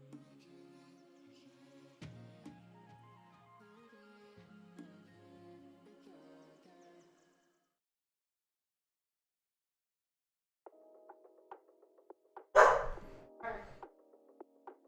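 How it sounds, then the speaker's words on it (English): A dog barks a few times in a home setting, a short loud cluster of yaps in the latter part, following quiet tonal background sounds and a pause of silence. "Dog's barking."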